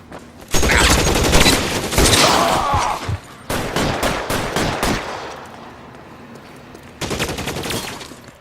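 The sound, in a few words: gunfire in L.A. Noire video game shootout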